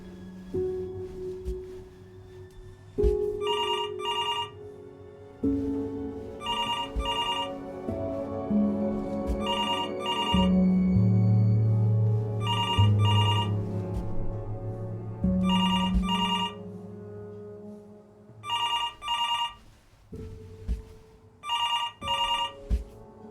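A telephone rings in Before Your Eyes, short bright bursts of trilling bell repeating at regular intervals over a low, sustained musical score that swells and then drops away, leaving the rings nearly alone at the end.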